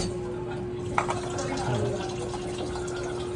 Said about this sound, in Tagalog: Lalagyan naman natin ng olive oil.